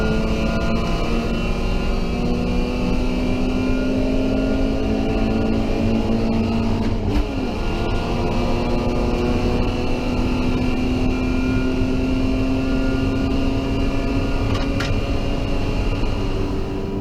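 Race cars lapping the Hampton Downs circuit, led by a Mitsubishi Evo with an E30 and an RX-7 in the field: a loud, continuous engine drone with pitch rising and falling as the cars pass, and no voices.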